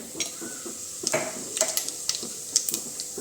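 Mustard seeds crackle and pop in hot oil for tempering, a quiet steady sizzle broken by scattered sharp little spits and ticks.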